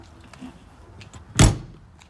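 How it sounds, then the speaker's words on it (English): A slam-latch exterior storage compartment door on a 2020 Grand Design Reflection 300RBTS travel trailer shuts once with a single sharp, solid thunk at close range. Quiet background before and after. "Slam latch compartments."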